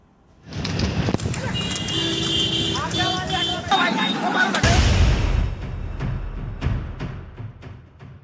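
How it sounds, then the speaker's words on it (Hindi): Buffalo-drawn carts (bhainsa buggi) racing through a town street in Hapur during the Ganga fair: loud, busy street commotion with rapid hoof clatter, rumbling wheels and a brief horn, and shouting voices throughout. "गंगा मेला में आने वाले ग्रामीण भैंसा बुग्गी की रेस लगा रहे हैं।"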